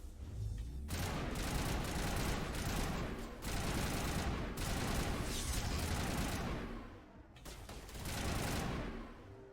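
Gunfire rattles through a firefight in Mass Effect, a dense, continuous barrage of shots and blasts that runs nearly nonstop, dips briefly, then swells again near the end.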